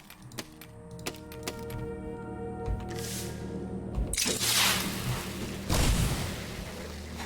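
A wall of rockets firing in Besiege, a sharp ticking launch sequence building into bursts of roaring whooshes and rumbling blasts, the last one louder.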